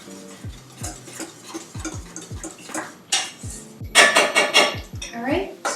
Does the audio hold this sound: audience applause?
no